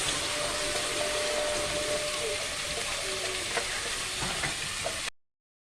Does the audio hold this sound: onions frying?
yes